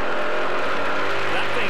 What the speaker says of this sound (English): you can really get a feel for it off the sound of the engine as well